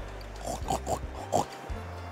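Piglets in a farmyard make a handful of short, soft grunting oinks in quick succession, fairly faint against a low steady background hum.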